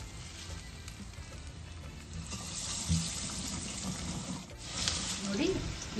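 Small pieces of banana flower vada batter fry in hot refined oil with a continuous hissing, bubbling sizzle, while a voice talks intermittently over it.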